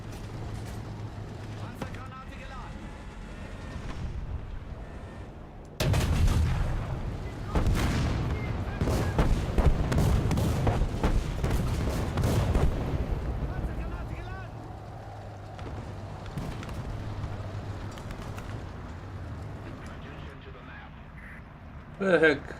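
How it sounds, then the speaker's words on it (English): War Thunder tank battle gunfire and shell explosions: dense, rumbling bursts of cannon and machine-gun fire that swell abruptly after a calmer start, sustained for a long stretch over engine noise, with a final sharp blast at the end. "Where the heck these shots were coming from?"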